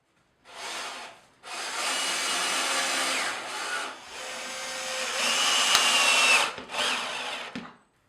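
A power drill drives a screw through a wooden batten into a stud during panel mounting, with a short burst, a pause, then a long loud whirring run that rises in pitch before stopping.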